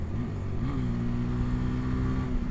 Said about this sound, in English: Wide open throttle, banging gears down like it's not a problem.